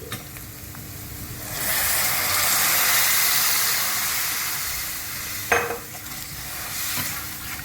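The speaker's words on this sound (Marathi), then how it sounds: "त्यामध्ये सांडगे शिजण्यासाठी मी पाणी टाकते" A loud hissing surge as water goes into a hot pan of turmeric masala for cooking sandge, swelling and then settling into a bubbling simmer, with a brief clink of utensil partway through.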